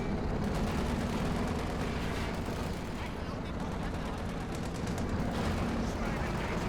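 Machine gun bursts rattle through a battle in Company of Heroes 2, dense continuous gunfire and explosions filling the scene under steady commentary.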